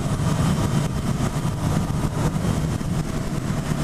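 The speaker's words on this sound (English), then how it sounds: "And that exhaust note" A Honda CB1000R motorcycle with a 4-2-1 Euro 4 exhaust idles and rumbles, a dense, loud, steady exhaust note heard close up.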